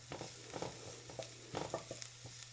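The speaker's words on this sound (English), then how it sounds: "we're just going to go ahead and saute our onions in here" Onions sauté in a skillet, giving a quiet, steady sizzle broken by soft, irregular stirring scrapes and clicks, with no one talking.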